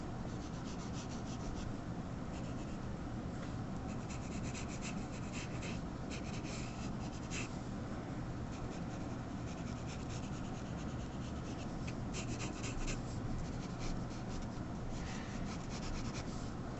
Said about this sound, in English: I'm going to try to draw this weird sort of triangle